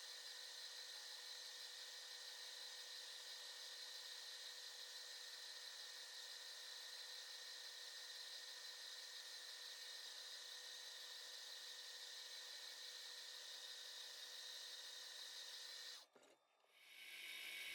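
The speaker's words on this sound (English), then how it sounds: "The next step was to center drill the bar stock in preparation for drilling." A metal lathe center drills brass bar stock, giving a steady, high grinding whine that runs unbroken and close for about sixteen seconds before cutting off abruptly.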